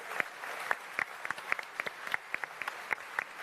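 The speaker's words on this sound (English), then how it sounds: "So please, round of applause," A small audience at an Elite Dangerous expo claps, sparse individual hand claps in a loose irregular rhythm, fairly close, brief and without cheering.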